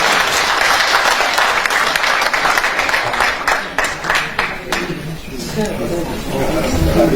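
A theatre audience at a jubilee concert evening gives sustained, dense applause: many hands clapping at once, loud and steady throughout, with a low crowd murmur underneath.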